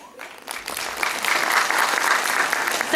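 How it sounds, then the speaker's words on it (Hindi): Audience applauding at a tribal talent award ceremony in Dungarpur, steady broad clapping that swells after the first second and holds loud and dense to the end. "आप सभी प्रतिभाएं अपने लिए तालियां बजाएं, आप आपके लिए तालियों के हकदार हैं"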